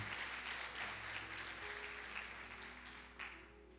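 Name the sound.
church congregation applauding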